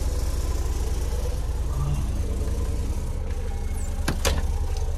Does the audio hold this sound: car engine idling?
yes